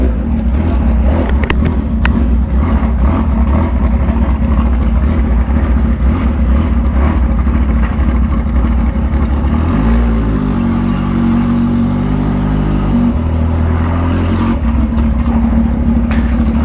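A modified, supercharged 2015 Kawasaki H2 motorcycle on a test ride, its engine droning loud and close the whole time, with shifts in pitch as it revs and settles.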